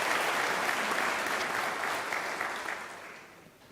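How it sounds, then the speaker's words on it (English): Broad, even audience applause in a large hall at a university graduation ceremony, full and steady at first, then gradually fading out toward the end. "Let's give him the last round of applause."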